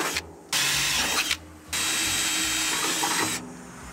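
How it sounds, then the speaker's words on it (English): A power drill bores bolt holes through a steel frame, using cutting oil, in loud sustained bursts of whirring and grinding. Short pauses split the bursts, and no one speaks. "So now what I'm doing is drilling the holes to mount the battery bracket to the frame here."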